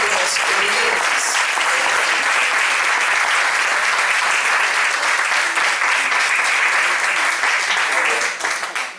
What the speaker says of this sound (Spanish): le vamos a brindar un fuerte aplauso a Cristian Míguez